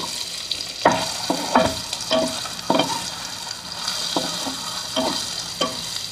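Stuffed okra (bharwa bhindi) frying in hot oil with cumin seeds in a pan, a steady close sizzle broken by a series of distinct spatula scrapes and taps every half second or so, no speech.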